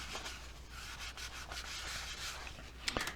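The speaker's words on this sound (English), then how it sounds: "Then immediately go over it with paper towel." Paper towel is rubbed over a freshly colored wood back panel of a 1941 Western Royal radio cabinet, giving a faint, continuous dry scrubbing swish with a couple of small knocks at the end.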